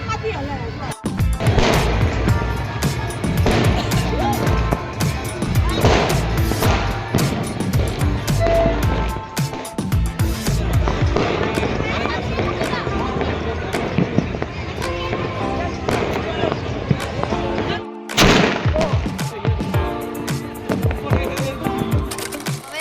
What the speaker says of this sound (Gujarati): હવે બધી જ બાજુ ફટાકડા ફૂટી રહ્યા છે